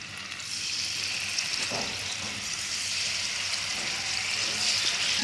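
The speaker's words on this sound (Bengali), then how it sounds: "আমার তেলটাও গরম হয়ে গেছে, আমি মাছগুলো তেলেতে দিয়ে দিচ্ছি" Pieces of shol (snakehead) fish fry in hot mustard oil with a steady, moderately loud hiss and crackle that builds slightly and holds evenly throughout.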